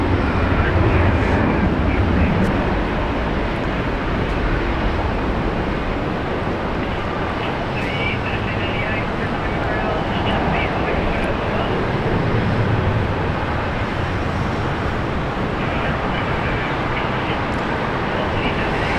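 French Air Force aircraft at Brisbane International Airport, a steady broadband roar of jet engine noise sustained throughout, loud and constant without a clear build or fade, with no speech over it.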